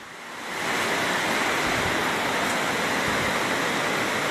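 Floodwater rushes steadily through a flooded housing scheme in Jamaica, a loud, dense broadband roar like surf that swells in over the first half second and then holds constant and close.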